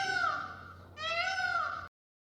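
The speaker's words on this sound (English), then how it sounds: "Peacock." A peacock's call, two loud drawn-out wailing cries back to back, the second rising and brighter, heard close and clear with no talk.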